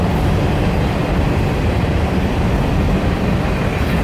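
A train passing close by, a loud, steady roar of wheels and rumbling cars that stays constant throughout with no gaps.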